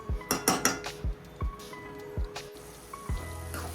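A spoon stirs vaghareli rotlo simmering in buttermilk in a metal pan, making a series of sharp clinks and knocks against the pan at an uneven rhythm, with soft wet squelches between them.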